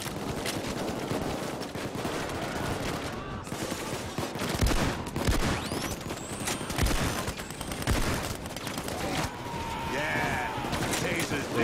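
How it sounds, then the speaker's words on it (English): Dense shotgun fire and other gunfire in the video game Payday 2 rattle out in rapid overlapping bursts, loud and continuous, mixed with game effects and a voice talking over it. "So I decked out this shotgun to have fire so it lights people on fire."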